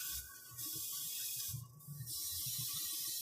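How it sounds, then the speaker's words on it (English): An airbrush spraying paint on a resin model kit hisses steadily, the spray briefly cutting in and out, a fine continuous high-pitched stream of air. "I'm just spraying a little heavier"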